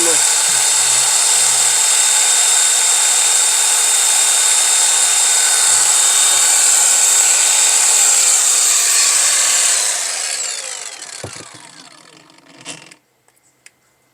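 A Makita DGA511Z cordless angle grinder spins at its full 7400 rpm with a loud, steady, high whine for about ten seconds, then winds down and falls silent.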